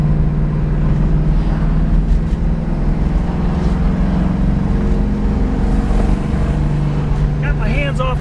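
A 1970 Plymouth Cuda's engine drones loud and steady while driving, with a low rumble and a faint rising pitch near the end.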